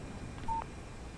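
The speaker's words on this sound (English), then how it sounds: "Text message from Barry." A phone text message alert in the Alan Wake video game sounds as a single short electronic tone, faint and brief over a quiet background.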